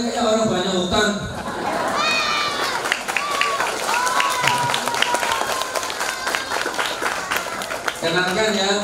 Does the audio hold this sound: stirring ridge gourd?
no